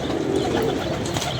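Pigeons kept by a household coo steadily and close by, a dense, continuous throaty murmur of several birds at once with no talk over it.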